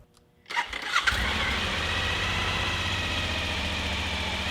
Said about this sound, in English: Let's run the bike.